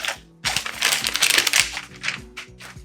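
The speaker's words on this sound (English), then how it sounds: "Let's unwrap this thing. So we got wrapping right here." Crinkly plastic wrapping being pulled off a new 2020 Dell XPS 13 laptop, a close, busy rustle and crackle lasting a couple of seconds with short pauses, recorded alone without talk.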